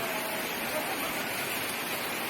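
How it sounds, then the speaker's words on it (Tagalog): Heavy rain pours down in the Philippines as a steady, dense hiss, loud and unbroken throughout, with no voices. "stranded muna kami kasi malakas ang ulan. And rinig nyo naman."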